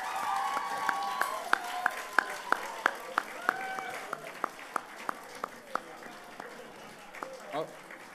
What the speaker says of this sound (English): I think it's worth an applause for every single winner and every single nominee